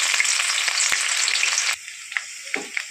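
Chopped onion hits about 100 grams of hot oil in a heated kadai for beef kofta, setting off a loud, dense sizzle that suddenly drops to quieter crackling with a few close stirring clicks.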